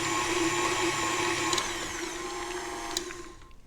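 Motor of a kitchen appliance churning cream into butter, a steady droning whir that runs continuously and eases slightly toward the end, with brief clanks near the close.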